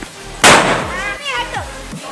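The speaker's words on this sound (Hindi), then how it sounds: "ये भी लगी पटाखा फोड़ने में" A firecracker bursts with a sharp loud bang during Diwali celebrations, followed by crackling fizz and a short whistling streak as people's voices carry nearby.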